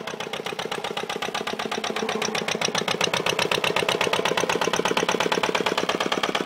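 A 1967 Rough Rider diesel dumper engine runs steadily close by, a loud rhythmic chugging knock that keeps an even fast beat and picks up slightly, with no voices over it.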